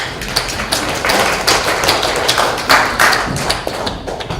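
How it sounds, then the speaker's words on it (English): A small audience at a talk on climate justice claps in a sparse, uneven patter of close individual hand claps that carries on steadily and fairly loud. "I just want to first have a bit of applause for all the great work that you all do."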